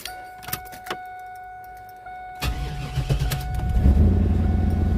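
A car engine cranks and catches, then settles into a steady idle that grows louder and rougher, following a few faint clicks and key sounds beforehand.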